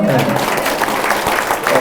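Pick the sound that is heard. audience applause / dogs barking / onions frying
audience applause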